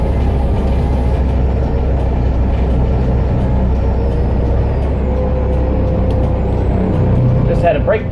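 A Blue Bird school bus pulls in at a ranch with a steady, loud low engine rumble and road noise throughout, a brief hiss near the end, heard from inside the bus.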